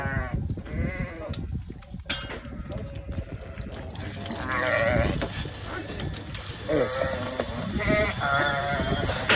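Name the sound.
Merinolandschaf sheep bleating during washing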